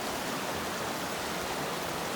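A river flows close by along a backcountry trail in Jasper's Maligne Pass, a loud, unbroken broadband rush that stays steady from start to finish with nothing else heard.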